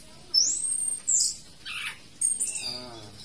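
An orange-headed thrush sings nearby in short bursts of bright rising whistles and chirpy phrases separated by brief pauses, clear against a quiet background.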